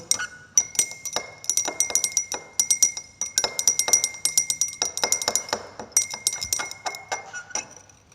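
Glass beaker of sodium hydroxide solution stirred during a thermochemistry lab, a quick run of bright clinks and taps of the stirrer against the glass, close and irregular, with a few short pauses.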